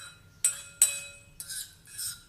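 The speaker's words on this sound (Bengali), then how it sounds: "4 চামচের 1 চামচ ইস্ট দিয়ে ভালো করে মিশিয়ে নেব" A spoon clinks against a glass while stirring yeast, sugar, a pinch of salt and warm water, giving two sharp close taps followed by softer swirling scrapes.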